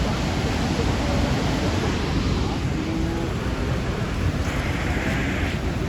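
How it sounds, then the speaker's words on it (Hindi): The Saraswati River at Mana Village roars with a loud, constant rush of fast-flowing water that stays steady throughout, with faint talk under it. "नदी में, आपको सुनाई दे रहा होगा कितना शोर है।"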